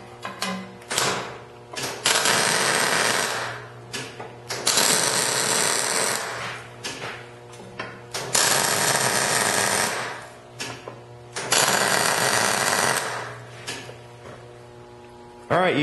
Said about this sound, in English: I should be able to get myself a decent weld